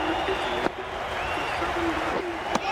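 Steady crowd applause and cheering fills a cricket stadium during a The Hundred match between Trent Rockets and Southern Brave in the video game Cricket 22, a continuous loud wash with brief sharper bursts.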